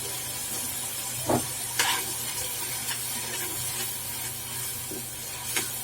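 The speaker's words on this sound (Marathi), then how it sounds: "थोडंसं तेल सुटेपर्यंत आपण त्याला भाजून घेऊया मध्ये मध्ये हलवत राहायचं आहे" A thick onion-tomato masala sizzles and hisses steadily in a kadhai, with a handful of soft spatula scrapes at irregular intervals, close and without speech.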